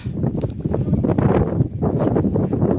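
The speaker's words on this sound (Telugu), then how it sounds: "గాలి బాగా ఉంది, వాయిస్ కూడా సరిగా రావట్లేదు" Heavy wind buffets the microphone with continuous rough, gusty rumbling that swells and dips throughout.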